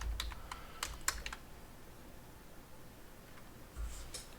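Keys clatter on a computer keyboard in quick bursts during setup of a self-hosted WordPress site behind an Nginx Proxy Manager, with clusters of clicks early on and a short flurry near the end, all at moderate closeness and free of speech.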